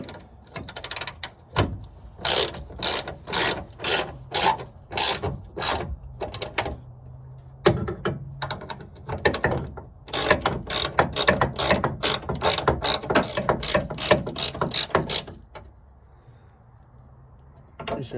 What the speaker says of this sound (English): Pretty sure I'm shaving my paint off the hinge.